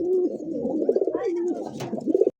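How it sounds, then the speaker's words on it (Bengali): A pair of Kalpit pigeons coos in steady, throaty rolling phrases, close and continuous, with a brief rustle near the end. "এটা হচ্ছে কালপিটের একজোড়া কবুতর"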